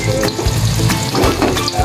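Garlic frying in a pan for sarsiadong pampano, a steady dense sizzle with crackling pops and some stirring clatter, loud and close, no talking.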